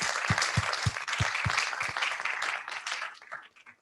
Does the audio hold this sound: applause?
yes